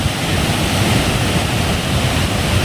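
Strong rushing water at Pampa lake in Saputara during the monsoon, a loud continuous roar of flowing water close by with wind buffeting the microphone.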